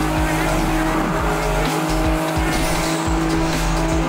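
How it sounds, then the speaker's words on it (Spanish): Race car accelerating in a car racing video game, a loud continuous engine whine with repeated rising gear sweeps and tire squeal, steady and close with no talk. "estoy acelerando a toda velocidad"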